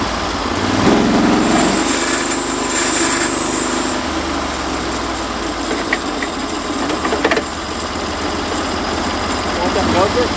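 Small motor running steadily and fairly loud throughout, a continuous engine drone with some clatter and shifts in pitch, while people talk over it.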